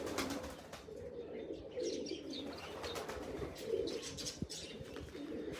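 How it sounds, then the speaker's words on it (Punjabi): Soft, low coos of black Chinese pigeons repeat close by against a quiet background, with a few faint chirps. "ਆ ਕਾਲਾ ਚੀਨਾ ਕਬੂਤਰ"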